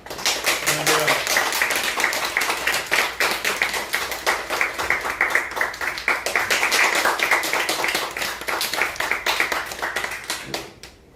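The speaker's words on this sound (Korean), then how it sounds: "앞으로 나오실 때 힘찬 박수로 하나님께 영광을 드려 모시겠습니다." A church congregation claps vigorously in a sustained, dense burst that fades out near the end, with a brief voice heard at the start.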